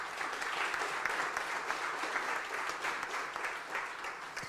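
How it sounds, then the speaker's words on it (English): A crowd gives a steady round of applause at an official announcement in Houston, fairly soft and sustained, heard alone with no speech. "I think that deserves a round of applause."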